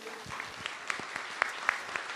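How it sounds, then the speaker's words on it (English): Conference audience applauding, a thin scattering of distinct individual claps with a few sharp louder ones, sparse rather than a full roaring crowd. "Big round of applause for you."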